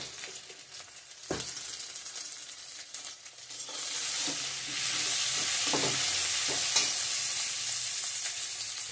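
Onions with salt fry in a pan, a steady close sizzle that swells louder midway, broken by scraping clatters as the pieces are stirred.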